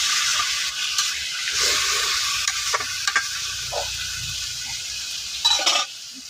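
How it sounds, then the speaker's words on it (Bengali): A small splash of water goes into vegetables frying in a pan, giving a soft sizzle under intermittent scraping stirs and a few sharper clinks of the spoon, with no speech. "আনাজ বেশি লতার একটু কষানো দেওয়ার জন্য হালকা একটু জল দিয়ে দিচ্ছি"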